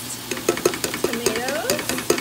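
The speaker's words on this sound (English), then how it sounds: "now I'm pouring in my diced" Diced tomatoes hit a hot pan with a lively sizzle, while a utensil scrapes and taps against the pan in quick, irregular strokes close up.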